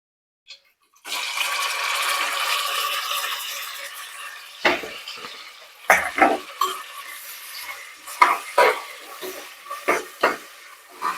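Bay leaf, onion and curry leaves drop into hot oil for a raw jackfruit masala gravy, setting off a steady loud sizzle, then a quieter crackle broken by several sharp clinks and scrapes of a utensil against the pan.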